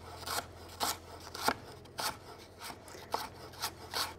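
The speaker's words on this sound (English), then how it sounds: "Some fresh ginger. Just slice that nice and thinly on the diagonal." A knife thinly slicing fresh ginger on the diagonal against a board, eight or so crisp, evenly spaced cuts, close and quiet with no talking.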